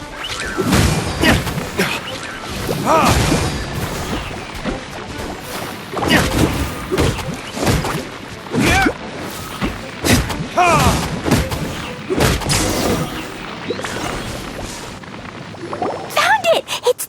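Explosions and impact blasts in the video game Genshin Impact, heard as repeated loud bangs and crashes in quick bursts over busy game music, with a voice speaking over part of the action.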